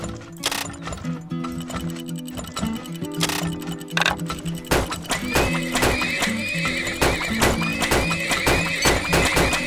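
Horses whinny repeatedly in the video game Turmoil, over clip-clopping hooves and a busy layer of game sounds and ticking, fairly loud throughout.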